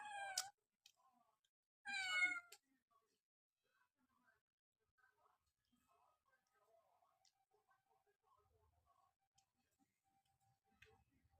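A cat meows twice in short, clear calls about two seconds apart while being fed dried fish, followed by quiet clicks and faint rustling.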